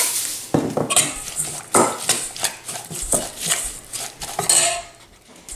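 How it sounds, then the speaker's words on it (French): A spoon scrapes and clinks against a bowl while chermoula sauce with cumin, paprika, hot pepper and salt is stirred, giving close, irregular clattering strokes with no talking. "Et je vais mélanger ma sauce charmoula par la suite"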